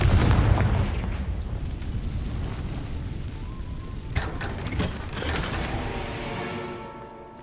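A Confringo fire spell from Hogwarts Legacy bursts as a loud, dense blast that sustains as a roaring rumble, with a few crackling impacts later before it fades out near the end.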